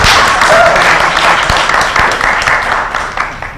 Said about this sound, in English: please give a warm round of applause to our MC Herbert.